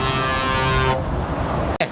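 A lorry horn sounds loud and steady for about a second at a motorway roadside spotting point by the M20, then cuts off, leaving traffic rumble and a brief knock near the end.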